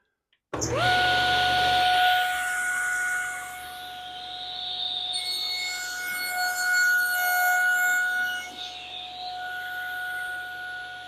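A table saw fitted with a tenon jig starts with a sharp click and rises into a loud, steady motor whine that dips and swells as the blade works through the piece, then settles lower toward the end.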